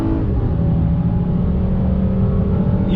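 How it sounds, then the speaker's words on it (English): A 2020 Honda Ridgeline midsize pickup with its naturally aspirated V6 and 10-speed automatic pulls hard on a highway, giving a loud, steady engine drone with road roar that holds for three seconds without talk. "All right, guys, we're gonna take it on the highway on throttle. 10-speed drops down."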